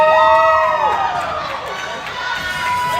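Spectators shout and cheer at a youth ice hockey game in an indoor rink. The loud, close crowd noise holds high whistle-like tones with a brief swell, and voices are mixed in.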